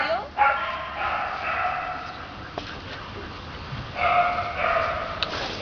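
A dog yips and barks in short bursts at moderate distance, with people talking around it throughout.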